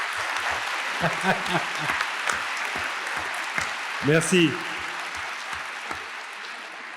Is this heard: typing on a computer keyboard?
no